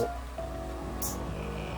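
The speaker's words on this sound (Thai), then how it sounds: "ฝนก็ยังตกอีก" Steady rain falls in the survival game ARK Ragnarok, a continuous soft wash of drops with a faint low hum beneath, no voices.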